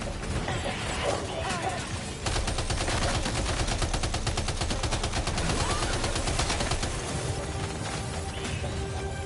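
Sustained gunfire from the video game Death Stranding 2, a dense, loud stream of rapid automatic shots and impacts with a brief lull near the start, then a steady barrage that runs to the end.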